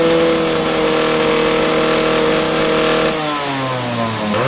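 A Yamaha RXG motorcycle engine is held at a loud, high rev close by, a steady buzzing drone that drops away as the throttle is released near the end.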